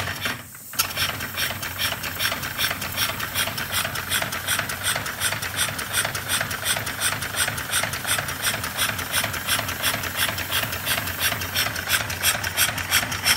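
Air-powered engine mounted on a bare chassis, running with a fast, steady mechanical clatter and ratcheting rhythm close up, continuous for over ten seconds after a brief start.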